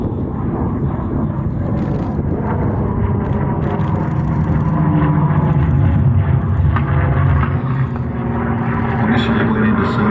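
A Mustang warbird flies past at the Wings Over Illawarra airshow, a loud, sustained engine roar that swells and fades over ten seconds while a commentator speaks over it.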